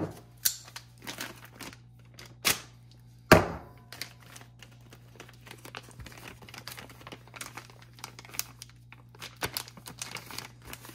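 Crinkly plastic packaging is handled up close in a scatter of sharp rustles and a few louder crackling snaps, with soft taps and shuffling between them.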